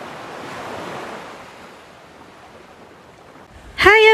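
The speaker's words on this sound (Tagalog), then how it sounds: "Tara, labas tayo sa veranda para mas marinig niyo mga alon." Ocean waves washing ashore at a Boracay beach, heard from a resort veranda as a soft wind-blown surf rush that fades, with a sudden louder burst of sound at the very end.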